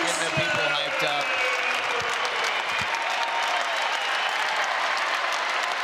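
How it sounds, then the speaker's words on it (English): Big Ten college wrestling crowd at Minnesota on its feet, sustained loud applause and cheering filling the arena after the dual meet's finish, with a commentator talking over it. "The crowd is on their feet. They love it."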